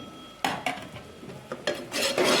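A spoon stirs peas, cabbage and cauliflower in a metal pan, scraping and clinking several times in uneven bursts, close and moderately loud, then building to a steady scraping rustle with no voices.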